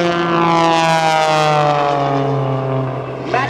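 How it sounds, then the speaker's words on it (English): An Extra aerobatic airplane with a German MT propeller, its engine and prop roaring loud and close in a strong harmonic whine that slowly falls in pitch as it passes, easing off near the end. "This airplane was designed in Germany and built in Germany by Walter Extra. And with that German MT propeller"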